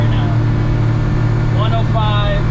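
Inside a Suzuki Carry kei truck cruising on the highway at about 100, the engine holds a loud, steady drone under constant road and wind roar, with faint higher whines drifting in briefly.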